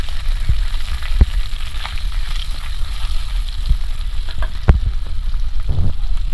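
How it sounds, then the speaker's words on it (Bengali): Chopped onions fry in oil with a steady, close sizzle, broken by a few sharp knocks and clinks of a utensil against the pan. "পেঁয়াজ কুচি ভালো করে ভেজে নেব"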